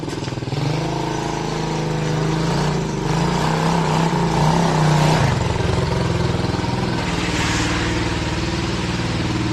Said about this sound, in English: It's smoking a lot, but also has an exhaust leak that we never fixed yet.